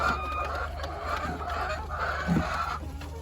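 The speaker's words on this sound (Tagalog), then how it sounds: "Hello, mga chicken. How are you, mga chicken? Okay lang kayo, mga chicken?" Chickens cluck in a backyard poultry pen, several soft repeated clucks over a steady low background hum.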